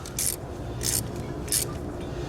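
Three short rasping, scraping turns of a tool tightening a spark plug in a Ford Ranger 2.3L engine, close and moderately loud, spaced roughly two-thirds of a second apart.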